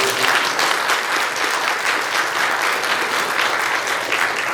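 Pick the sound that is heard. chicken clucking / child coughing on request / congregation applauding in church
congregation applauding in church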